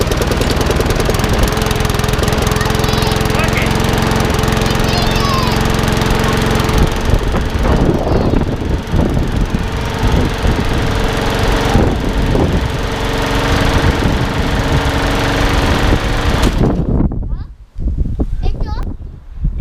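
A repaired petrol lawnmower that previously had no spark runs loudly and continuously close by, its rough engine roar holding steady before briefly dropping away near the end and picking back up.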